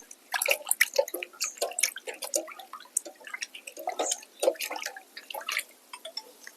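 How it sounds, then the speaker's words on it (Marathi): Roots of a freshly uprooted plant are rinsed in water, giving close, irregular splashes and drips that come in quick bursts for several seconds, with no one talking. "या पाण्यात आपण या मुळ्या स्वच्छ करून घेऊ"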